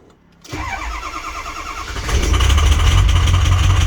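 An old Jeep Grand Cherokee WJ engine cranks in the cold and catches, then revs up into a loud, rough running roar close by.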